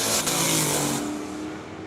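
A 1980 Toyota truck roars past in a street drag race, loud engine noise surging then easing over two seconds, with no talking.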